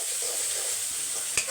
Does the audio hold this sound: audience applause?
no